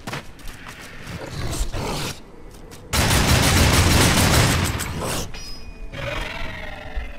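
Rapid gunfire in the video game Darksiders II, loud bursts of dense crackling shots that start and stop abruptly, with a sustained heavy barrage in the middle and a short ringing tone after.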